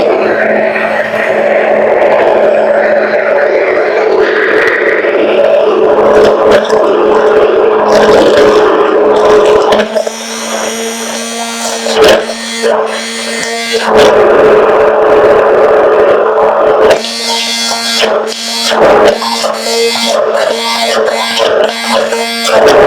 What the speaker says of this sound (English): If y'all don't have just a little bit of cream to whip and you have an immersion blender, it's the easiest thing in the world.